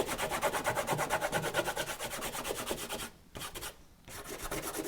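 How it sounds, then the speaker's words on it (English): Fingers rub masking fluid off watercolour paper in quick, rhythmic strokes, a close, soft scrubbing sound with two short pauses near the end. "Remove the masking fluid by rubbing with your fingers."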